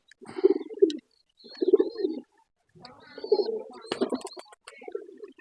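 Domestic pigeons of two breeds cooing in a loft, soft repeated throaty coos in several bursts, close and fairly clear, with a brief sharper flutter or scrape near the end.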